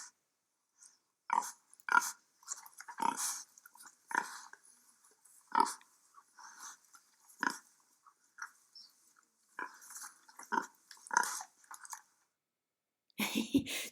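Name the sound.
pigs grunting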